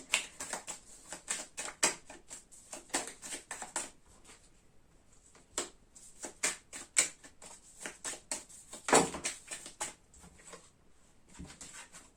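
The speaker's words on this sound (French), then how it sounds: "Maintenant que j'ai vu les dos de deck, je peux les mélanger." Tarot cards shuffled by hand in a dense, riffling patter of quick papery slaps and flutters, coming in bursts with brief pauses, close and fairly loud, no talking.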